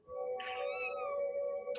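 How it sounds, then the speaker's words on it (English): A kitten meows in a video game, one drawn-out, tonal cry with a rising and falling pitch that sounds close and clear, with no voices. "I rescued the kitten."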